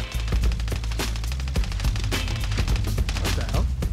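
Rapid gunfire in a video game, a dense stream of sharp shots in quick bursts, loud and close, with little talk over it.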